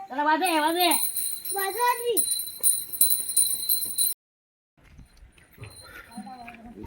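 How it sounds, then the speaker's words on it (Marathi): Rapid metallic puja bell ringing during a Gauri puja at Ganesh Chaturthi continues while a voice talks over it, then stops abruptly before quieter voices resume. "घंटी नॉनस्टॉप वाजवायची"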